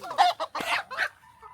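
Chickens squabbling at close range, a quick run of loud, harsh clucks and squawks in short bursts, then fading to a faint call.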